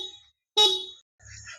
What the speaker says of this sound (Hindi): मैं हॉर्न इसमें सिंगल हॉर्न ही आता है, एक बार बजा के दिखा दूँ